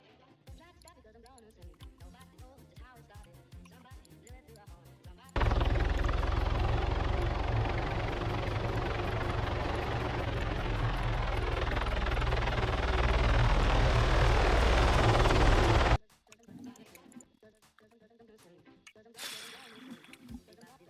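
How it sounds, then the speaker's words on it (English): NATO helicopters in a video game fly overhead as a loud, steady rotor and engine roar lasting about ten seconds, with softer game sounds and clicks before and after. "Let me get some aircraft here. NATO, helicopters."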